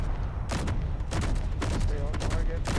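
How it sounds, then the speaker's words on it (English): Rapid gunfire and rocket blasts in the video game Space Engineers during a tank battle, dense repeated loud bursts crackling close together with a heavy low rumble underneath. "Incoming rockets! Taking fire! Taking fire!"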